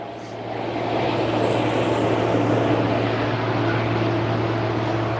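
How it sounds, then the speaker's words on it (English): A nearby tractor engine runs loudly and steadily, a continuous low droning rumble with a broad noisy wash on top, holding constant throughout with no speech. "That tractor is actually quite loud."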